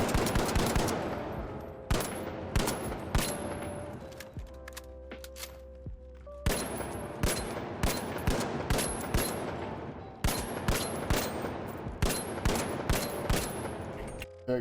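Bursts of machine gun fire in the shooter game The Finals, several sustained volleys with a short pause mid-way, loud and close with mechanical rattling between strings of rapid shots.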